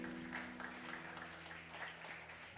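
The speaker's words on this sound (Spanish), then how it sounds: "Denle un aplauso al Señor." A church congregation claps together during a Spanish-language sermon, a steady moderate wash of applause with a faint sustained tone underneath.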